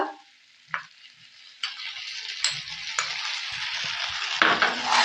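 Potatoes sautéed with ginger paste, poppy-seed paste and nut paste for a vegetarian Kashmiri aloo dum, a spatula scraping and stirring in bursts over a steady low sizzle that grows louder toward the end.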